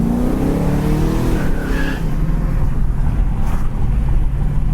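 A 1969 Mercury Cougar, an Eliminator clone with power steering, cruising with a steady, loud engine drone and road rumble filling the clip, no voices heard.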